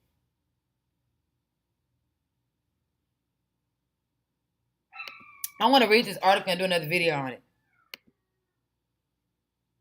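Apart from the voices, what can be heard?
cat meowing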